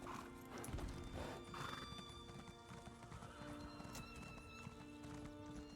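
Steady clip-clop of a special reward horse mount walking in an online role-playing game, hoofbeats regular and close over a soft music bed, with a brief whinny early on.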